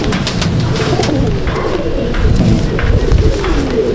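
Pigeons in a loft at Andul, Howrah, coo close by in overlapping low throaty calls, with soft rustling and shuffling underneath, steady throughout and without speech.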